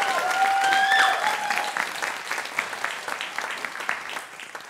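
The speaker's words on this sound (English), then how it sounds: "Can we please have a round of applause for all of our amazing teachers" An audience at a school awards ceremony claps for the teachers. The dense applause starts loud, then thins into scattered, fading claps over a few seconds.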